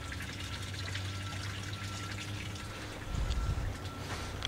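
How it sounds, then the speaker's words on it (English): Open water flows and laps steadily at Lake Simcoe on a December winter morning, a constant soft wash with a brief louder surge near the end, heard alone without talk. "we can still hear the water."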